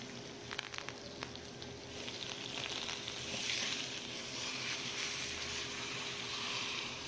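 Steak searing in a hot pan with its fat rendering, a steady close sizzle and crackle that swells midway and holds on alone without talk.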